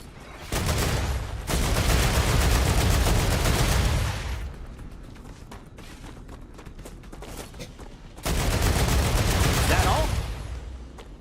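A weapon with heavy recoil firing in the StarRupture video game, two long rapid automatic bursts separated by a quieter stretch of faint background noise.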